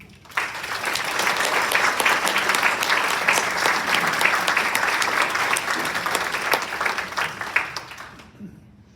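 An audience at a resident council meeting in a retirement community applauds to welcome a new couple, with steady, warm clapping from a roomful of people that starts abruptly and fades out after about eight seconds.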